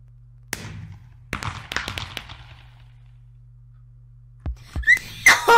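Fireworks go off outdoors during a game of hide and seek, giving sharp isolated pops and a crackling burst, then a quiet gap before several louder bangs and crackles close by.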